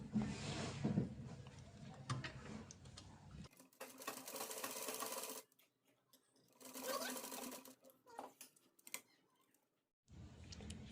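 A sewing machine runs in bursts while stitching velvet cloth to make a decorative dori pendant tassel, its rapid mechanical whirring stopping and starting with short quiet gaps between runs.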